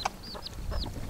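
Backyard chickens give a few short, close clucks and soft squawks in quick succession, with no talking.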